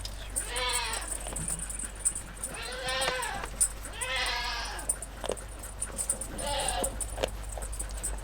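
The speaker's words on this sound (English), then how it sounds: "Just hanging out with my goat." A goat bleats four times in close, wavering cries spaced a second or so apart, with light rustling and a steady low hum in the background.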